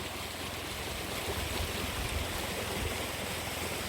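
Water flowing down a mountain valley stream beneath dense forest, a steady broadband rush that is continuous and fairly close, with no voices.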